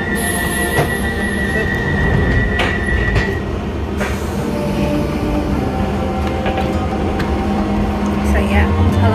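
An empty London Underground train rumbles along at speed, with rattling carriages and occasional high metallic squeals over a steady roar.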